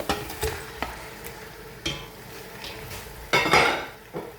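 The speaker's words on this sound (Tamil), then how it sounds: "போட்டுட்டு வடிவாக கலந்து விடுவோம்." Mutton being mixed with salt and biryani masala in a metal pot, a series of sharp spoon-on-pot scrapes and clanks at an irregular pace, with a louder burst of stirring near the end; close and clear, no talking.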